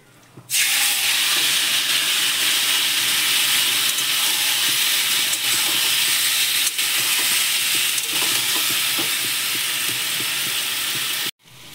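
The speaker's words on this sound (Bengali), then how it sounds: "এবার আমি সেদ্ধ করা সবজিটা দিয়ে দিলাম" Boiled vegetables for shukto drop into hot oil and set off a sudden loud, steady sizzle that hisses without a break for about eleven seconds before cutting off, with no speech over it.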